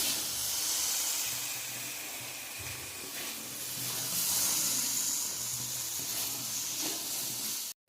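Jujube fruits fry with turmeric and salt in a pan for a village-style pickle, giving a continuous soft hiss and sizzle that holds for several seconds before stopping abruptly.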